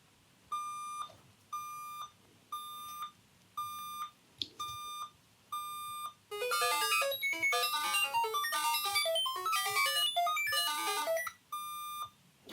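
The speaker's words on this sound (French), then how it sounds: "il y avait l'alarme qu'on va arrêter avec CTRL S" A Canon X-07 computer sounds a repeating series of short electronic alarm beeps at an even pulse, interrupted midway by a rapid burst of busy program tones before the beeping resumes.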